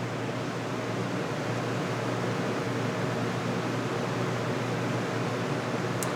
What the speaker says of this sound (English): Let's turn the air conditioner back on